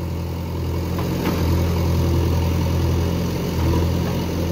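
A tractor engine runs steadily at a low, even rumble on a farm during loading of organic manure, close and constant without revving.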